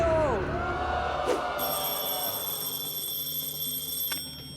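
A telephone bell rings steadily on the set of the French game show À prendre ou à laisser, a sustained electronic ring over a busy studio background with voices.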